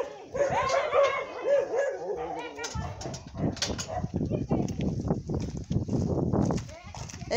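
A person speaks briefly, then dogs bark repeatedly nearby in quick, uneven bursts that overlap and keep going.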